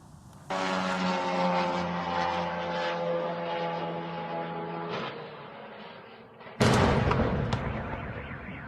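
A loud, sustained droning roar of air defence fire builds and holds, then a sudden heavy explosion bursts out and rumbles away into the distance, during a night drone attack on a railway station.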